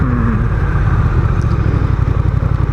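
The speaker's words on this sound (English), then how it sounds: "it's automatically gonna shift itself down into the lowest gear" A Honda Rebel 1100 DCT dual-clutch motorcycle rumbles loudly and steadily up close, its engine note dropping as the transmission shifts itself down into the lowest gear.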